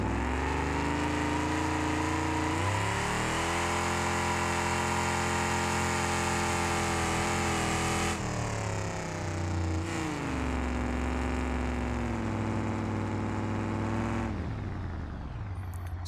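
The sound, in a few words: car engine running rich in video game BeamNG.Drive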